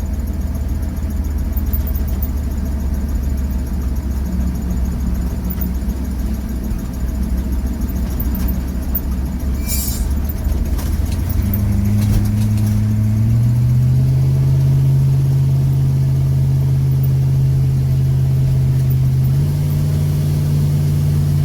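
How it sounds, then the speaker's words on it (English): An M1028A2 CUCV dually truck engine drones loudly from inside the cab as the automatic transmission shifts up on its own, the engine note rising and then settling into a steady higher tone. "Here it's shifting to second gear all by itself there."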